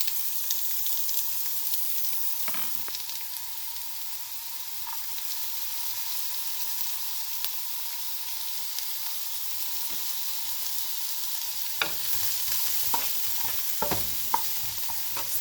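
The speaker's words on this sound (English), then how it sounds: "about 4 to 6 cloves of garlic, and I'll saute that just for a few minutes." Garlic cloves sautéing in a pan give a steady broadband sizzle for the full stretch, with a few sharp clinks and scrapes of stirring near the end; no one speaks.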